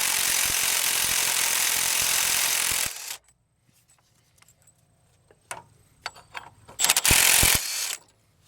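Milwaukee 2565P-22 right angle impact wrench working rusted nuts: a steady loud burst of hammering for about three seconds, then quiet with faint clicks, followed by short bursts and a final loud hammering run near the end.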